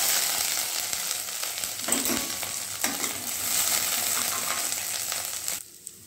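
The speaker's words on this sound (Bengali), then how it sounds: "আদা বাটাটা দিয়ে দেব।" Ginger paste spits and sizzles in a hot wok, a loud continuous frying hiss with stirring scrapes that cuts off abruptly near the end.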